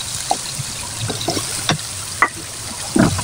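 Chopped onion and minced garlic fry in a pan for a fish-egg dish, with a soft continuous sizzle broken by a few light stirring taps and scrapes.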